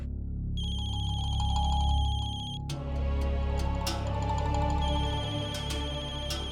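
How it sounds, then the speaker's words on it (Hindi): A mobile phone ringtone plays loud and continuous indoors, a repeating electronic melody that shifts pattern partway through, with no talking over it. "मम्मा फोन की आवाज तो यही कहीं से आ रही है।"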